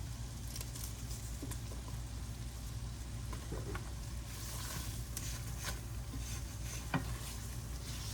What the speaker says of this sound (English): Throw you some onions in there, and we're just gonna let it brown up a little bit.